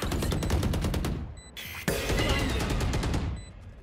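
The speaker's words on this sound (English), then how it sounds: "I'm under heavy fire." Rapid automatic gunfire in a Valorant match on the Bind map, loud and dense bursts of shots running almost continuously, with a brief break before the firing resumes.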